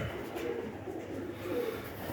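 Young pigeons coo softly in a loft, low murmuring calls repeating close by against a steady background hum.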